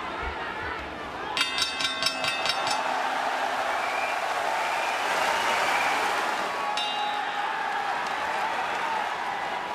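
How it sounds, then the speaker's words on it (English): A boxing crowd roars in an Osaka arena during the Murata–Brant rematch, a sustained loud wash of cheering with bursts of whistling and clinking near the start and again later. "Crowd is roaring in Osaka as Brant Murata put on a show in that opening round."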